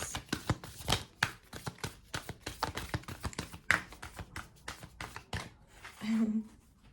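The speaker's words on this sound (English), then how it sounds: "Oh, they're shuffling rather weird. Like, it's a strange shuffle today." Rapid crisp riffling and tapping of playing cards, a string of quick close clicks and flutters, with a low hum near the end.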